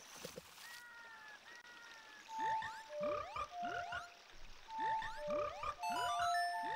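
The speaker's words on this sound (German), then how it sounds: "Unter Wasser gibt es Frösche." Underwater frogs in the video game Zelda: Ocarina of Time give a series of bright, rising, chirpy electronic croaks. Short melodic tones repeat in quick bursts over a faint ambient game background.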